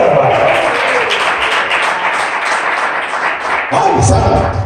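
A church congregation applauding during a worship service, a dense, loud burst of clapping that swells again near the end, with voices mixed in.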